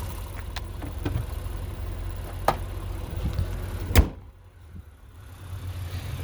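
A 2022 Honda Odyssey EX-L with front-wheel drive idling smoothly, a steady low engine hum with a few light knocks, then a solid door or hood thud that muffles the engine sound before it slowly returns.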